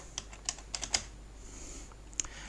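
Sparse keystrokes tap on a computer keyboard, a handful of quick, light clicks close by, with a short pause before a final tap.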